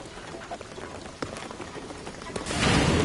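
Steady rain falls in the video game Shadow of the Tomb Raider, a dense broadband patter with a few sharper hits scattered through it, swelling louder toward the end, with no talk.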